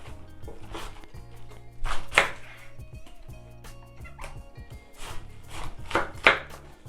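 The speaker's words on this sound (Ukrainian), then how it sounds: "Я ж буду різати на такі середні квадратики, бо так люблю." Knife chopping cabbage into medium squares on a board, several separate crisp cuts with a couple of louder crunchy strokes, set against a low background hum and no talk.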